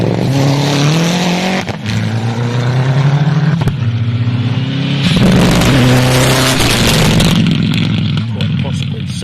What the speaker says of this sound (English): Little Mitzi Mirage with the Evo running gear transplanted in.